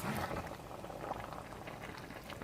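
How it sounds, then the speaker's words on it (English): One-pot pesto pasta with added milk bubbling back up to a boil, a steady, close, soft burbling and popping with no voices. "I added that milk because I wanted it to come back up to a boil and cook"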